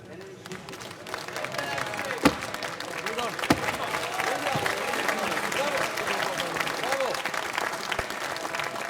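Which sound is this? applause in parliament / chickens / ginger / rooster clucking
applause in parliament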